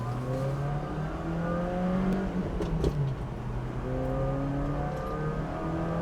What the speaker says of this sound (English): Nice and quiet, smooth running, smooth revving little engine.